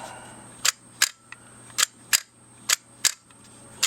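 A Lomography Diana camera shutter is tripped repeatedly during a repair, producing seven sharp, close mechanical clicks at irregular intervals over a faint steady hum.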